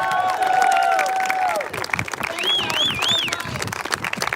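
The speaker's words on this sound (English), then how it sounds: "Y'all keep clapping so I can get a ticket." A crowd at a candlelight vigil for the missing applauds and cheers the Wilmington Police Department, with steady clapping, whoops and a shrill whistle-like tone rising over the noise.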